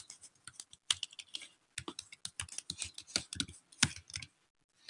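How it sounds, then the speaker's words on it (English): Fingers type on a computer keyboard in bursts of quick, crisp clicks and key taps, with short pauses between runs, close and fairly quiet, with no talking. "You can either hit space about 5 times"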